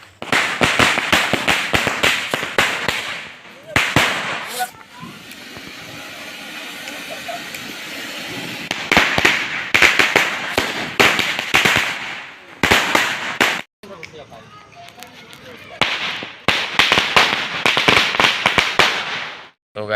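Firecrackers bursting during Diwali celebrations, a rapid crackling string of loud bangs in several bursts, with pauses of quieter background noise between the volleys.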